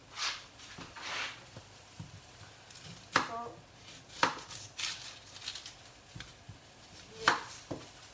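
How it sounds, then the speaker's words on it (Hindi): Onion being chopped on a board in a home kitchen, sharp knife taps at an irregular pace, some louder, with faint clinks of utensils and quiet background noise. "अनियन काटती हूँ"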